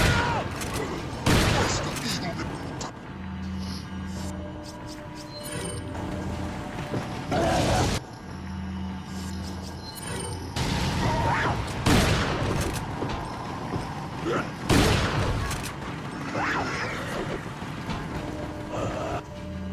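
A shotgun fires repeatedly in Resident Evil 4 as loud sharp blasts come every few seconds. Enemies shout in Spanish and other game noise sits between the shots.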